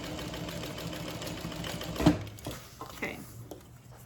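Sewing machine stitching an Annette handbag: a brief, moderately close mechanical whirr of stitching that stops midway, followed by quieter handling and a voice speaking.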